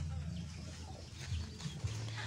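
Backyard chickens cluck softly nearby in short low murmurs and brief calls scattered across a quiet farmyard background, faint overall.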